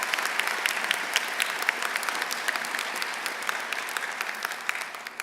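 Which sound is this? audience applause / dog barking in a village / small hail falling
audience applause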